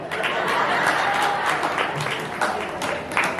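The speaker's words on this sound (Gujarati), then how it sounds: "આ પિતૃશક્તિ એકવાર તાળી પાડો." An audience claps steadily throughout at a Gujarati comedy gathering of a Brahmakshatriya community, a dense, even applause with a few louder individual claps standing out.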